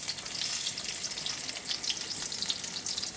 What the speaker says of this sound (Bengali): আমরা ভেজে নেব।